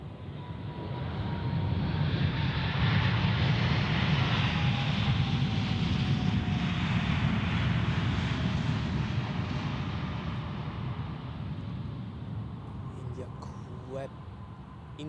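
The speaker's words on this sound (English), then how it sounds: "And another Swiss A320." Swiss Airbus A320 with the classic engine option landing at Zurich Airport, a broad loud jet roar that swells and slowly fades over several seconds, heard from close by with a voice talking over it.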